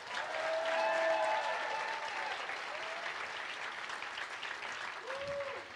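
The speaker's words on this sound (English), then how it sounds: "I want to hear a louder clap for what you just heard" Sustained audience applause fills a large conference hall at a global education conference, a dense wash of many hands clapping with some cheering voices rising above it, swelling early and then holding steady before easing slightly.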